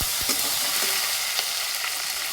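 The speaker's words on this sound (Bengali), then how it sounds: "তেলে দেবো 5 ফোড়ন, টমেটো, টমেটোটা হালকা করে ভেজে নেব।" Tomatoes frying in hot oil with five-spice seeds give a steady, close sizzle, with a few soft stirring scrapes near the start, for a rustic village-style fish curry.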